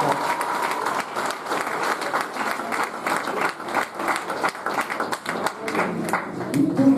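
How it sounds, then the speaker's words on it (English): Crowd at a cricket club awards night breaks into sustained, steady applause, many hands clapping together throughout without talk over it. "Give him a round of applause."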